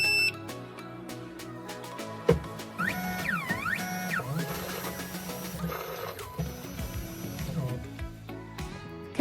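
A Tank 2 Pro key cutting machine powering up gives out a series of electronic beeps and tones, some rising and falling, over a steady motor hum, with a sharp click near the start.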